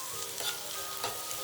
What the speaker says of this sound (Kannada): ಈರುಳ್ಳಿ ಸ್ವಲ್ಪ ಫ್ರೈ ಮಾಡ್ಕೊಳ್ಳೋದು